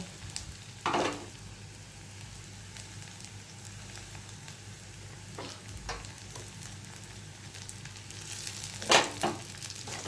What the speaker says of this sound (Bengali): পেঁয়াজটা হালকা করে লাল করে নিয়েছি এবারে ক্যাপসিকাম কুচিটা দিয়ে দেবো